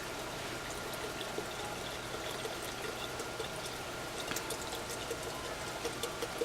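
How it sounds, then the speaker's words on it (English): Plain seltzer being poured into a rosé wine sangria, making a steady, fizzy stream of liquid with faint splashing and bubbling throughout, close and continuous with no voices. "the last step to finishing it is to add about 3 cups of plain seltzer"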